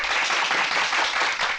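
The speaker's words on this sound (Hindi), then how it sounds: "ताली।" An audience claps together, a dense, steady burst of applause with no talk over it.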